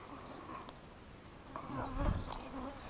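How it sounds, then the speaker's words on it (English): Buzzing flies circling near an outdoor dam during yabby catching, a continuous close insect hum that swells and fades as individual flies pass by. "Sorry about the flies buzzing around."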